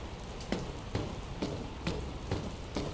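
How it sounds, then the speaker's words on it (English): Rain falling in the video game Dr Langeskov, The Tiger, and The Terribly Cursed Emerald: a steady patter on surfaces with a few sharper drops striking at intervals. "I don't think it's supposed to still be raining"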